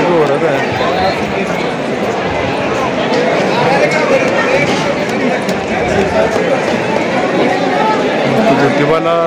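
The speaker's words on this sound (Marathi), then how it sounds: "गर्दी जोरात आहे" A large crowd at the Jyotiba temple in Kolhapur makes a dense, loud, continuous babble of many voices close around, with no single sound standing out.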